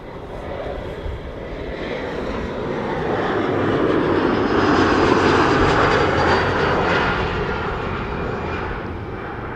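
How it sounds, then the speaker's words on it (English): A KLM Embraer 175 regional jet landing at Amsterdam Schiphol after a flight from Stavanger, its engine roar building steadily, peaking loud and near, then easing off slightly as it passes. "KLM flight 1174 arriving from Stavanger, Embraer 175."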